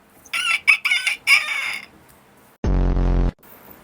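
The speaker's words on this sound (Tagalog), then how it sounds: "Unsa tingog sa manok?" A rooster crows once, loud and close, followed after a short pause by a brief, loud, low buzzing tone.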